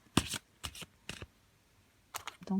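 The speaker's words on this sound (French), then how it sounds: "je vais prendre à présent l'oracle de Yagel Didier avec 2 cartes" Oracle cards being shuffled by hand in short, quiet riffling bursts, several brief rustles separated by pauses, close and soft.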